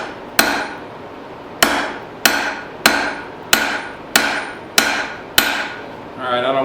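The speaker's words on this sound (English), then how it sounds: "now I'm going to do a set down. Use my rounding hammer because I want this to spread" A rounding hammer strikes hot steel seven times on an anvil while setting down a hook for a forged plant hanger, each blow a loud, ringing metallic clang spaced about every second and a half, close and clear with no talk.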